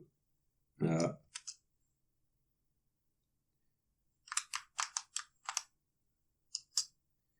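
Keys tapped on a computer keyboard in a few quick bursts separated by silence, close and moderately soft, with one brief voice sound near the start.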